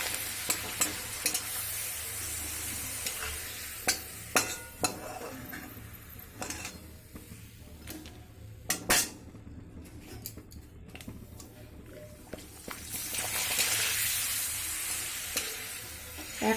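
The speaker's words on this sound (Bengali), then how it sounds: "দিয়ে পাঁপড়গুলো এক এক করে ভেজে নেব" Papads (poppadoms) frying one by one in hot oil over a medium gas flame: steady close sizzle with intermittent clinks and scrapes of a utensil against the pan, rising into bursts of crackling, no voices.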